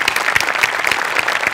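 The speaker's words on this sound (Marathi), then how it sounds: "वा जोरदार टाळ्या." Loud, close applause from a live audience after a comedy performance, a thick crowd of clapping hands with quick irregular peaks that carries on without letting up.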